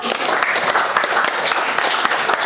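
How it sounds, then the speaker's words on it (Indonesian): A classroom group claps for a team of students after their presentation, a brisk, close patter of hands with distinct sharp claps, lasting a couple of seconds. "Tepuk tangan untuk kelompok 2."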